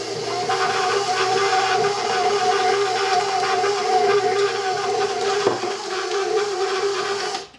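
An electric mixer runs steadily for several seconds, blending chocolate chips into cookie dough for Christmas baking, a loud continuous whir with a rattling texture that cuts off abruptly at the end.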